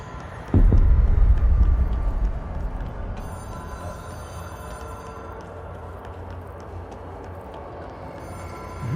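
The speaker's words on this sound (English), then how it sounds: "Oh, you hear the phone." A telephone rings with a thin, repeated electronic trill in a video game, heard faintly behind a loud low rumble that starts abruptly and then settles into a steady drone.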